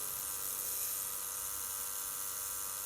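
A fine-line tattoo machine buzzes steadily on skin at a workshop, a continuous, even, high-pitched whine held close and unbroken throughout with no talking.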